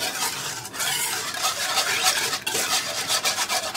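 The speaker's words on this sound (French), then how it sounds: "Je vais bien mélanger tout ça jusqu'à ce que ça me fasse plus de grumeaux." A spoon or whisk stirs a cream base with sugar and cornstarch in a bowl, making a continuous close scraping and rubbing with brief pauses between strokes.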